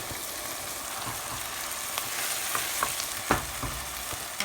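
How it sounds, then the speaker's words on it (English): Spinach and ground mutton sizzle and fry in a pan as they are stirred together, a steady close hiss with scattered scraping and clacking from the spoon. "now I'm adding the cut and clean spinach to it. Give it a nice mix. Keep cooking all of it together."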